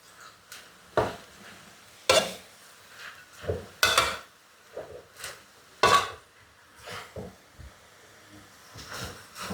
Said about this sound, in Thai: ผัด ไฟแรงๆเลยนะคะ ให้ผักกันจองรอสลดก่อน